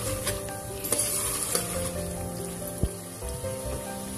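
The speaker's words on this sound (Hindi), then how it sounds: "यहाँ पे देखिए अच्छे से भुनाई हो रही है कलेजी की" Chicken liver (kaleji) sizzles in a pan with ginger garlic paste and green chili, a steady close crackle broken by a few clinks and scrapes of a spoon stirring, with no voices.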